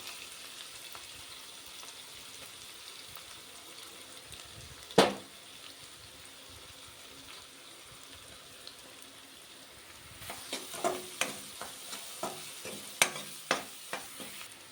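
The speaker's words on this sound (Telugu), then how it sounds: "ఉల్లిపాయ ఎర్రగా వచ్చేంత వరకు వేపుకుందాం" Onions frying in hot oil with salt and turmeric for chicken curry, a quiet steady sizzle with occasional stirring clatter, one sharp clink early on, then a run of scraping and tapping spoon strokes toward the end.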